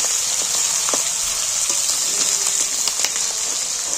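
Chicken skin sizzles and fries in oil with turmeric, a steady bright crackle running throughout with occasional clicks as it is stirred in the pan.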